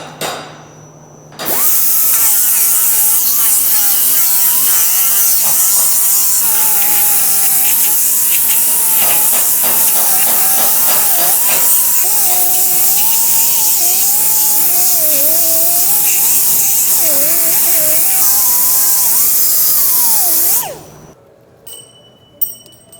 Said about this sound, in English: Just taking the grease off so I can sand it without.